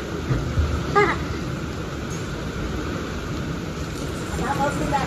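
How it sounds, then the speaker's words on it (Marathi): Steady heavy rain pours in Tembhurni, a dense hiss holding for the whole stretch, with a faint rumble of thunder low underneath and a few soft voices nearby. "पाऊसच पाऊस आला"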